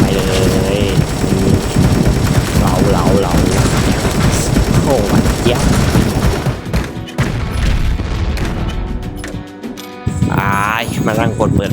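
Rapid turret gunfire in a zombie video game, loud continuous bursts of shots mixed with explosions and mechanical game effects, sustained throughout with a brief dip near the end.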